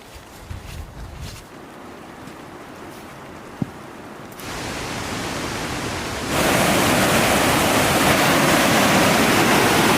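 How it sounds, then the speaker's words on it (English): Loud, steady roar of a waterfall at Hayburn Wyke rushing onto the beach; it swells abruptly twice, growing into a dense, continuous torrent close by. "It's an absolute raging torrent down at Hayburn Wyke here."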